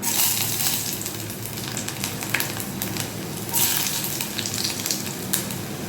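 Chopped garlic sizzling in hot oil in a pan for chili chicken, a dense continuous crackle with occasional louder spits and a stir or two, close and alone with no talking.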